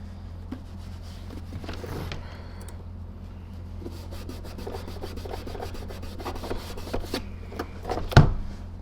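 A cloth rag rubs steadily over a RoboClean EBK340 vacuum nozzle, giving a continuous close scrubbing and swishing sound with one sharp knock near the end.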